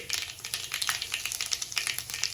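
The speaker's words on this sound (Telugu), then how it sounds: "Oil heat ఎక్కిపోయింది. సో నేను జీలకర్ర, ఆవాలు యాడ్ చేసుకున్నాను." Cumin, mustard seeds and green chillies crackle and sizzle in hot oil for a tomato masala curry, a dense steady fry with sharp popping bursts, close and fairly loud, with no voices.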